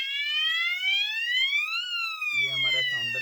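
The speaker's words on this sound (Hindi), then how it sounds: "ये हमारा साउंडर जो है ये काम कर रहा है और ये फ्लैशर भी फ्लैश कर रहा है।" A fire alarm sounder sets off during a manual trigger test, blaring a loud electronic tone that sweeps steadily upward and resets, with a voice starting to talk over it near the end.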